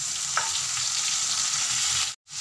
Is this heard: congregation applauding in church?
no